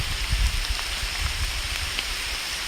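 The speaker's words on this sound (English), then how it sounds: "Okay, it's raining, so I'm going to get out of the rain." Steady rain falling outdoors beside an old log building at a Southern historic site, a dense even hiss with a low rumble underneath and no voices.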